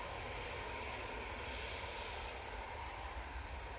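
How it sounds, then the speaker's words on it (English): A Ryanair airliner coming in to land at Manchester Airport gives a steady, loud broadband engine roar throughout, with no talk over it. "Ryanair coming down Tango now."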